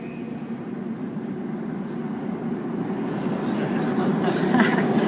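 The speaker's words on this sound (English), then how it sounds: "In the subway." A New York subway train rumbles through Fulton Station, a steady low roar that swells louder toward the end, with faint hiss and clatter.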